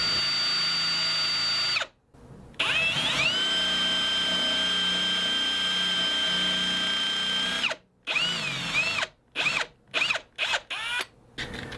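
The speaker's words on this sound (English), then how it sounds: "I'm going to drill out those 2 outer screws down to the depth marked on my drill bit" Power drill boring out screws in a wooden guitar body, a loud steady whine running for several seconds, pausing, then a series of short bursts near the end.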